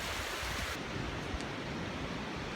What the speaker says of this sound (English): You can probably hear the wind up here.